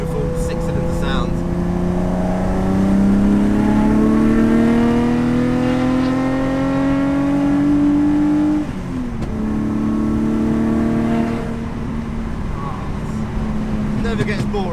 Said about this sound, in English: there really is no better noise than this beautiful 6-cylinder sound